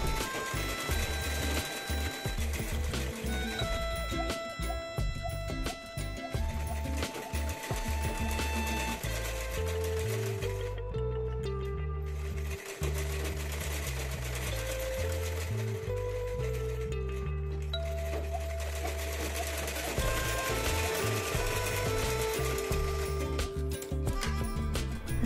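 A sewing machine runs steadily while stitching a dress neckline, a continuous close whirring drone with a couple of brief pauses and restarts.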